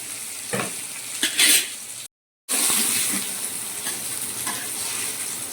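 Malvani-style fish frying in a pan sizzles loudly and steadily, with crackling bursts. A brief dead-silent gap breaks the sound before the hiss resumes.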